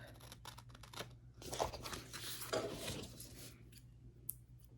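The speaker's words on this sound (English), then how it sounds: "give it a snip. Give this a snip." A few faint snips of scissors cut through paper while a planner is being decorated, mixed with soft rustling and handling noises, quiet and close.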